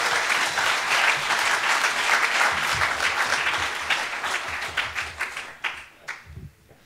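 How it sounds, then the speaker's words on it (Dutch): An audience at a late-night tech talk show gives a warm round of applause, dense and loud at first, then thinning into a few scattered claps before it dies away. "hartelijk applaus"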